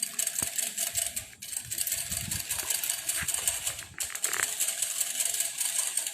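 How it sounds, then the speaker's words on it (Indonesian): Eggs being whisked with honey and sugar in a bowl until foamy, heard as a steady busy clatter of a whisk against the bowl, fairly close and continuous, with brief pauses. "Kemudian kita kocok lepas atau kita seperti membuat telur dadar sampai si gula pasirnya ini"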